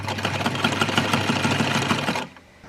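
A vintage sewing machine stitches thick fabric in a rapid, steady mechanical patter up close, then stops abruptly near the end, with no talking.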